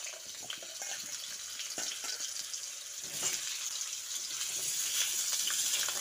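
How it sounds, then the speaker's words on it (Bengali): Cut potatoes frying in hot mustard oil, giving a continuous loud hiss and sizzle that swells as the pieces settle, heard close up with no voices. "কেটে রাখা আলুগুলো প্রথমে তেলের মধ্যে দিয়ে দিচ্ছি।"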